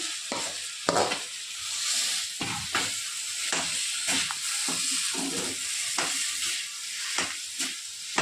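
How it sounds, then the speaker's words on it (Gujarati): Potato bhaji being mixed and mashed for masala dosa, steady close scraping and stirring with a soft sizzle beneath, repeated rhythmic strokes throughout. "આ રીતે તમારે મિક્સ કરી લેવાનું છે"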